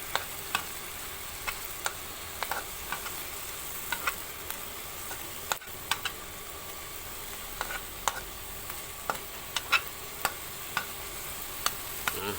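An omelette fries in a pan with a steady soft sizzle and crackle, sharp little pops and spatters scattered throughout, fairly quiet and close, with no talking.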